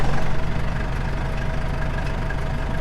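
Small engine idling after a push-and-twist start: a steady, close mechanical chug with a regular low pulse, loud at first and settling into an even idle, no talk.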